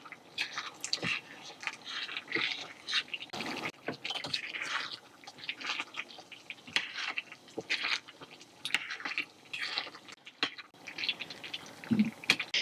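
Garlic and peppers frying in oil in a pan for a pepper crisp sauce, a steady crackling sizzle with irregular pops and spits running throughout, close and fairly quiet.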